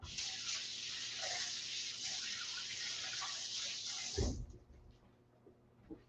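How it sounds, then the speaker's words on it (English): Tap water runs steadily over green onions in a kitchen sink, a broad continuous splashing rush that cuts off abruptly near the end, leaving a quiet tail with a couple of soft knocks. "Let me rinse these. Get any loose dirt off."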